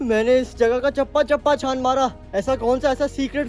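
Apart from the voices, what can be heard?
No everyday noises stand out.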